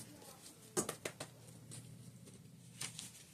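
Tarot cards riffle and snap in a few quick bursts, followed by softer shuffling, close by and with no talking.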